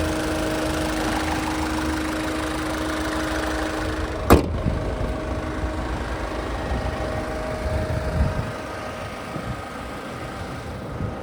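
A 2016 Ford Figo Aspire diesel car engine idles with a steady low rumble; a sharp click cuts in partway, then the engine keeps running with a rougher, uneven tone.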